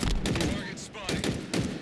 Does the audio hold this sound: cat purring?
no